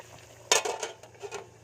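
Lid set onto a pot of boiling chicken adobo, a sharp metallic clank followed by a few lighter clattering knocks of metal on metal, close by, over a low steady bubbling hum.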